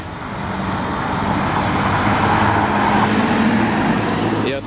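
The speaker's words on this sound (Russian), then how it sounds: "как поднимаются машины." Cars climb a steep city street, a steady close roar of engines and tyres with traffic noise building and holding for a few seconds before cutting off.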